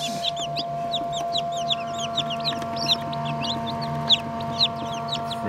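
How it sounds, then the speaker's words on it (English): Many newly hatched chicks of mixed breeds (Frizzles, Welsummers, Polish, Pekins) inside a Brinsea Ovation incubator, peeping in a dense, continuous chorus of high chirps close by, over a steady low machine hum. "Look at all these chicks."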